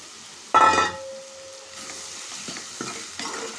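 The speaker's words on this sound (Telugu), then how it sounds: "చక్కగా కలుపుకోవాలి ఉడికించిన చామ దుంపలు వేస్తున్నాను" Boiled taro root pieces dropped into a hot pan of spiced oil with chili powder, a sudden loud sizzle burst that quickly fades, followed by softer scraping stir strokes and light clinks.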